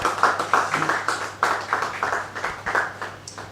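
An awards ceremony audience gives a round of applause: uneven, fairly close clapping that rises and falls in steady bursts, with no talk over it.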